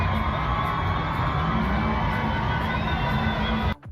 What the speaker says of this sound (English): really there's horns and just people screaming